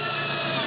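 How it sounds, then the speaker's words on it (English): A power drill with a long bit whirs steadily at high speed, drilling wood for a stand, for a brief moment, close and loud. "So this is using a drill."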